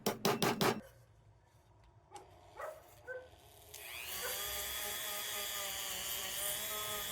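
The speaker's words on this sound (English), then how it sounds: "Then I'll clean it up a little bit with a Dremel" A Dremel rotary tool with a wire brush cleaning a pickled copper feather: a few short knocks and scrapes, then the motor spins up into a steady high whine and grinds on against the metal.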